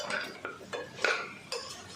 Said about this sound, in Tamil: இதை ஒரு வாட்டி நல்லா மிக்ஸ் பண்ணிக்கலாம்.